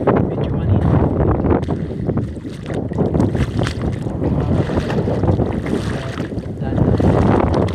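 Strong wind blowing at a beach in Marinduque, loud constant gusting and buffeting across the microphone, with a voice speaking under the roar.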